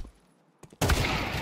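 Gunfire in a Counter-Strike match at a professional tournament: after a near-silent stretch with a couple of faint clicks, a sudden loud burst of rapid shots fills the rest.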